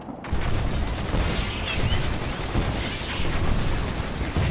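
Heavy artillery pounds a base in Command & Conquer 3: Kane's Wrath, a steady dense roar of distant booms and rattling fire that stays at an even level and continues unbroken.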